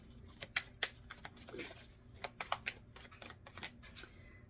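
Soft, close riffling and tapping of tarot cards being shuffled, irregular quick flicks over a quiet background.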